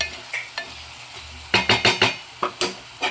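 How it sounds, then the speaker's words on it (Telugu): Eggplant pieces tossed into a pan of cooking tomato curry for prawn and brinjal curry, heard as a few close clattering thumps and spoon scrapes against the pan with a faint sizzle underneath and no talking. "ఇందులో వంకాయ ముక్కలు అయితే వేసుకుని"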